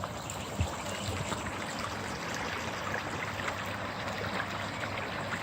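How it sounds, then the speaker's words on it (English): Water flowing down into a stream in a cemetery, a steady close rushing and trickling wash that stays even and continuous throughout with no voices. "All that water coming down here into this beautiful stream"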